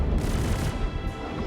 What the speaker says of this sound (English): The cannons fire 2 shots at once